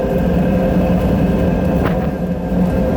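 A drip-type waste oil burner fed with turbo air runs in a steady, loud, continuous roar with a low rumbling hum and no talk over it.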